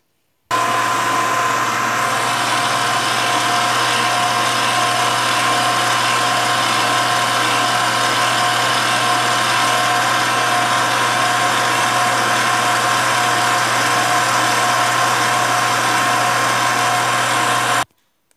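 A mixer kneads sticky brioche dough with a loud, constant motor whir that runs unbroken and even for the whole stretch, then cuts off abruptly.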